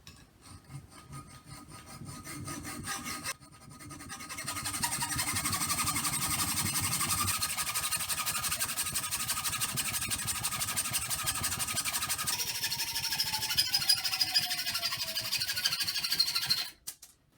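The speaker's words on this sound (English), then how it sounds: "I got my large nail secured in a vise, and now I'm going to cut off this nail end" A large metal nail clamped in a vise being cut off at the end, heard as a steady, loud, continuous grinding rasp that runs for most of the span, with a brief pause and a higher shift before stopping.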